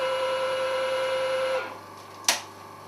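A Peter Pugger clay processing machine running with a steady mechanical hum and tonal whine that drops off partway through, followed by a single sharp clack, heard close.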